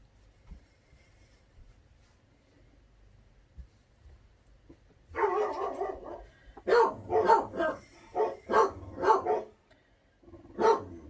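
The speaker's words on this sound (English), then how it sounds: "dogs, be quiet." After a quiet stretch, dogs start barking in a rapid series of loud, sharp barks nearby, pausing briefly before one final bark.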